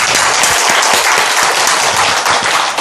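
A church congregation bursts into loud, sustained applause during a Sunday worship service, dense clapping filling the space steadily from start to finish with no talk over it.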